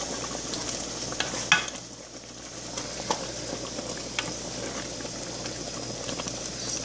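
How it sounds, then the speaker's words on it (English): Okra being stirred into a soup mixture in a bowl, giving a steady wet, slippery swishing and scraping texture throughout with a few soft clinks, close and moderately quiet, no talking. "Stir it up really good."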